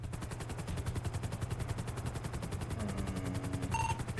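Rapid bursts of automatic gunfire rattle continuously through a police roleplay video game scene, loud and dense throughout, with a brief electronic tone near the end.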